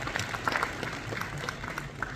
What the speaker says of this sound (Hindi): ये जोरदार तालियां प्लीज